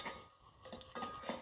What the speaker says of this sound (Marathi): अगदी 2 सेकंदामध्ये आपलं डाळीचं पीठ भाजलं गेलं.